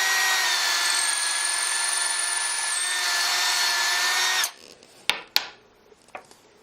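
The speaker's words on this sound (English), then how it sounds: "The last step in the process before dipping these is to drill the holes." A drill bores holes in cherry wood stove knobs with a steady, loud, high whine for several seconds before stopping, followed by a few sharp knocks and clicks in the quiet.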